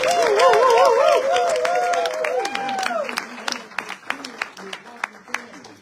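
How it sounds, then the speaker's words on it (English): Audience applause at a local spotlight event, clapping running under a prominent sung or chanted voice that glides through the first seconds, then thinning into scattered louder individual claps as it tails off. "before we go to the next person to speak, how about another big round of applause for Fabian Matthews"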